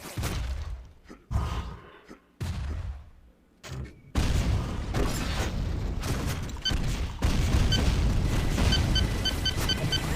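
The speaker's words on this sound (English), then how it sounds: "Nice chain gun" Rapid chain gun fire in the arena shooter Painkiller during a competitive duel, loud sustained bursts after a few sparse booming shots, with dense continuous firing filling the second half.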